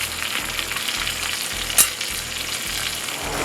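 A huge 9-inch square hamburger sizzles in a pan of grease over hot coals, with a continuous crackling fry, soft rhythmic low thumps and one sharp metallic scrape partway through.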